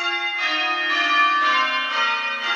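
Church bells rung in plain hunt on three, four and five bells, about six full, bright strikes in an even, unhurried rhythm, each ringing on into the next.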